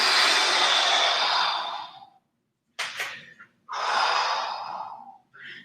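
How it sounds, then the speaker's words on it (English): Long, heavy breaths pushed out through the mouth during a lunge exercise, two drawn-out exhales separated by a short quick intake of breath, close and fairly loud with no speech. "Focus on the tension in the stomach to breathe out."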